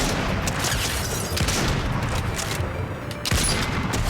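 Dense video-game gunfire rattles through rapid bursts as shots hit and blow up objects, loud and continuous with a sharper crack near the end, and no voices over it.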